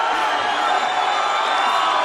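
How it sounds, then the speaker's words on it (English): Crowd at an MMA fight inside the First Bank Center cheering and applauding in a standing ovation, a dense, steady roar of voices and whoops that holds loud and unbroken throughout. "The crowd on their feet now inside the first bank centre. A standing ovation."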